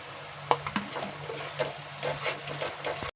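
Yogurt being sautéed with masala in a pan for a cauliflower and potato curry, soft continuous sizzling with a few light stirring scrapes and clinks, close and fairly quiet.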